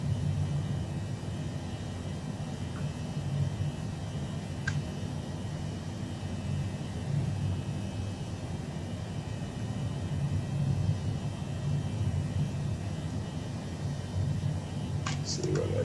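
A steady, broad jet-engine roar and cabin rumble from an Airbus A320-family airliner climbing past 10,000 feet in Microsoft Flight Simulator 2020, on a flight from Los Angeles to Phoenix, holds constant throughout, with a couple of faint clicks.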